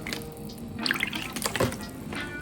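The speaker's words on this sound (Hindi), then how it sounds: "we're going to put half cup of water in it." Half a cup of water is poured into a cooking pan holding ketchup and masala for chicken Manchurian, giving a brief splashing, trickling pour in the middle with a few clinks, fairly close and without talk.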